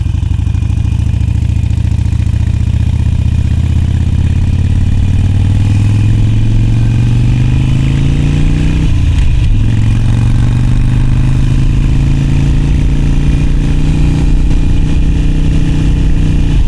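A Harley-Davidson Iron 883 motorcycle engine runs loud and close with a deep steady rumble that climbs in pitch as it revs up, dips briefly, then settles into a strong continuous drone.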